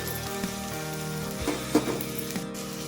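Peas, cauliflower pieces and thin-cut vegetables frying in a pan make a steady close sizzle, with a few light scrapes and knocks of stirring over a continuous crackling bed.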